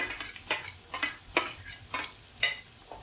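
Green chillies sautéing in a pan, with a quiet sizzle under rhythmic scraping strokes of a spoon roughly every half second, close by, with no voices.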